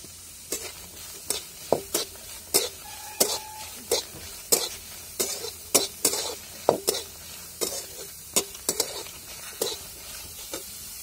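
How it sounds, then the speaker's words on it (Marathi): Onion frying in a kadhai, stirred with a spoon that scrapes and knocks the pan in a quick, regular rhythm of about twenty strokes over a low steady sizzle. "त्याला मी आता कढईमध्ये कांदा टाकून घेते मस्त"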